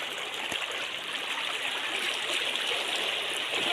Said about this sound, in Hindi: पानी का लहरा देखो कितना